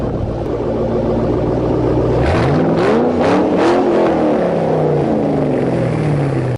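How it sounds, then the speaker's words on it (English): A 2005-2009 Ford Mustang exhaust with a stock H-pipe and axle-back mufflers starts from a steady idle, then blips through several sharp revs and settles back into a rumbling idle, loud and close with no talking. "Here's what it sounds like with a stock H-pipe."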